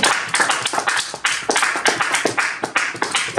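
A church congregation claps in a fast, steady rhythm, a dense crowd of hands close by and loud, continuing without pause.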